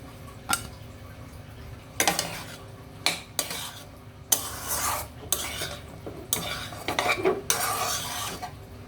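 Boiled chickpeas are stirred together with green chilli, coriander and chopped cucumber: close, loud scraping and clinking bursts come in irregular strokes, separated by short quiet pauses, with no talking.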